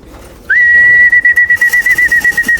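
Pigeons being fed in a loft give a sudden clear, sustained whistling call that then breaks into a steady pulsing series of repeated notes, close and loud, with no talking.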